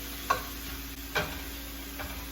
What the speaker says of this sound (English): shrimp doesn't take very long to cook at all